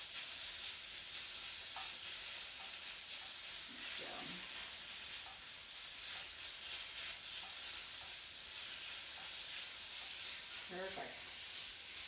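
A sweet and sour stir fry hisses steadily in a pan, a constant bright sizzle with a few scraping stirs of a utensil.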